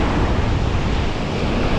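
West wind rushes and buffets at a low-tide coastline with low swell, a loud, dense, unbroken roar of air and surf close to the microphone, steady across the whole short stretch with no voices.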